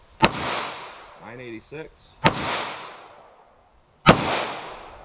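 Three loud, sharp gunshots from a snub nose revolver loaded with Federal Hydrashok ammunition, fired outdoors about two seconds apart, each with a long decaying echo, and a brief spoken number between the first two shots.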